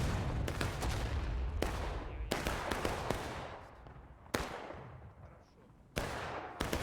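Musket and cannon fire crash across a large War of Rights battle on the Dunker Church map with hundreds of players: loud, sharp volleys break out repeatedly over a constant crackle of overlapping distant shots.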